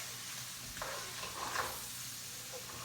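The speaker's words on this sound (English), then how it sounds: "We're sauteing this to get the onions kind of soft." Onions and spinach sauté quietly in a pan, a faint, steady sizzle with a few soft stirring scrapes in the middle, heard alone without talking.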